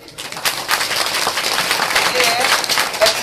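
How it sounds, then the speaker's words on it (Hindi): Listeners at a devotional religious gathering in a village clap their hands, loose uneven claps building into a close, lively patter with faint voices and a bird call behind. "अब लोग ताली बजाए"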